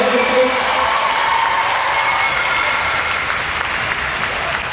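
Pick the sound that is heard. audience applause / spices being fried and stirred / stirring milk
audience applause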